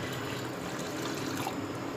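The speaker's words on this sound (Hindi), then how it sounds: "तो बस थोड़ा सा पानी डाल लें इसमें।" Water trickles and pours into a karahi pan holding beef for tikka karahi over a low flame, a soft, steady liquid stream at close range lasting about two seconds, with no voices.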